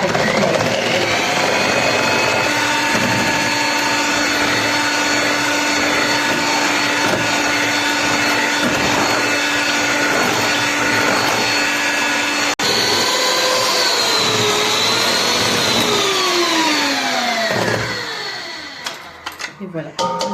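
A stand mixer whips Algerian biscuit dough made with oil, a loud, steady motor whine close by that lasts most of the span, its pitch shifting and sliding near the end before it winds down, while someone speaks over it.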